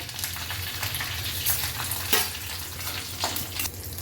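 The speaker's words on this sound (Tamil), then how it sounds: "இப்போ கடுகு பொறிஞ்சிட்டு கருவேப்பிலை பச்சை மிளகாய் இந்த பருப்பெல்லாம் தாளிச்சுடலாம்" Mustard seeds splutter in hot oil while curry leaves, green chilli and dal are tempered for a Bombay capsicum chutney. A continuous close sizzle carries sharp scattered pops and faint stirring, with no voices.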